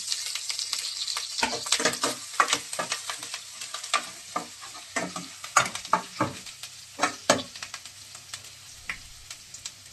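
Ginger-chilli paste frying with garlic cloves in a pan for Gujarati-style dal palak, heard as a soft sizzle broken by frequent quick scraping bursts of stirring, close and without talk.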